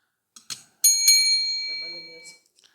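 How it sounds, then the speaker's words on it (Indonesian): A small hand bell is struck twice, ringing out clearly and fading slowly, with brief faint voice sounds around it. "Lonceng ini, coba bunyinya ya."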